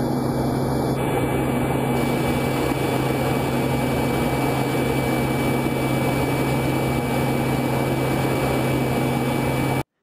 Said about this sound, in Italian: Confrontiamola con un filmato reale dell'aereo spia U2 a 21 km.